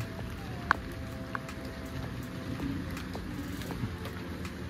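Light rain falling outdoors in late afternoon near newly planted garden plants, a soft steady patter with a few sharper drops standing out, fairly quiet and with no one talking.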